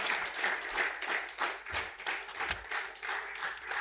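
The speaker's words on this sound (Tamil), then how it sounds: "ஒரு பெரிய கைத்தட்டலோடு டாக்டர் ஷில்பா டெரன்ஸ் அவர்களை அன்போடு நாம் வரவேற்போம்." An audience applauds to welcome a guest at a 200th-episode celebration show in Coimbatore, steady clapping continuing throughout at moderate loudness without speech.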